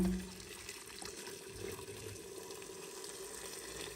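Hot water is poured into a pot, likely a pressure cooker, for a Czech pork lung dish, a steady soft gushing trickle that runs continuously at moderate distance with no talk.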